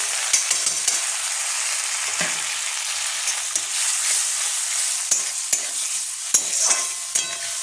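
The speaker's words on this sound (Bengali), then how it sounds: "এবার আমি এটা খুব ভালো করে কষিয়ে নেব তেল ছাড়া পর্যন্ত" Spiced masala for a Bengali-style sweet pumpkin curry is stir-fried in a pan until the oil separates, a steady sizzle broken by repeated scraping stirs, close and fairly loud, with no talking.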